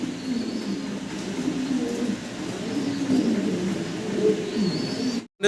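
Fancy pigeons coo softly in a loft, low rolling burbling calls overlapping continuously at close range, with faint background hiss and no talk.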